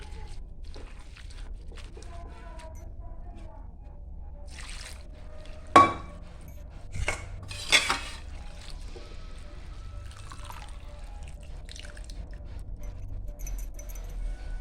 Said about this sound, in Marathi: त्याला आपण आता धुवून घेऊया.